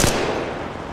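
A gun fires in Apex Legends Mobile: one sharp, loud shot at the very start, then a long, fading echoing tail.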